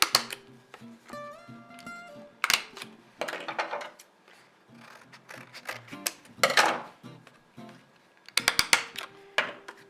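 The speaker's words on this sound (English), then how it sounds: "I just find that a stapler makes it a tad bit more secure" Paper pieces of a shark fin hat are fastened with a stapler, heard as a series of sharp, close snaps and clacks at irregular intervals amid paper handling and rustling.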